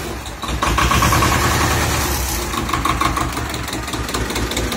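A small two-cylinder engine idles loudly and close by, with a steady, lumpy throbbing rhythm and no talking.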